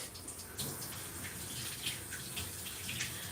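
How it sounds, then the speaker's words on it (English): Tap water runs steadily into a sink as hands are rinsed after mixing puff puff dough, a soft continuous splash and hiss that stays even throughout with no voices. "let me rinse my hand and cover that for a bit"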